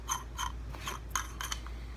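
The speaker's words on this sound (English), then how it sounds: "And this just screws back on." A cap being screwed back onto a Darth Sidious lightsaber hilt, giving a few short, close metallic scrapes and clicks in a quiet room.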